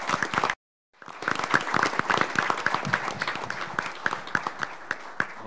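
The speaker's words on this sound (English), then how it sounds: "let's give them a big round of applause" A room at a San Juan city commission meeting breaks into applause for a boys' team. After a brief silent gap, many people clap in a loud, sustained, crisp burst that gradually thins toward the end.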